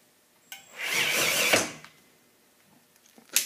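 A ramp driven by an Acme threaded rod mechanism gives a short mechanical whirr, rising in about half a second and running steadily for about a second before stopping, followed by faint clicks and a sharper knock at the end.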